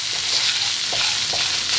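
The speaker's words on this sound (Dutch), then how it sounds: "En we laten dit lekker bakken." Serundeng of grated coconut and ground roasted peanuts frying in a pan, a loud continuous sizzle with soft stirring scrapes, close and steady throughout.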